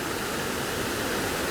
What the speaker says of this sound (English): Now this is a really unusual dam and waterfall.